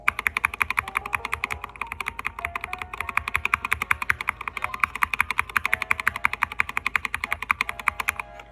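A SteelSeries Apex Pro gaming keyboard clacks as the W key is pressed over and over in a fast, steady stream of sharp, close clicks, with no speech.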